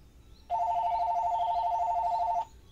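A phone rings loudly with a continuous electronic warble that starts suddenly, holds steady for about two seconds and then cuts off, with no talking over it.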